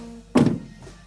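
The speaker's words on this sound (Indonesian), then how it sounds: "saya akan tutup pintu" A single solid thunk as the door of a Honda Mobilio car swings shut, close and fairly loud, with a brief low rattle after the latch catches in an otherwise quiet setting.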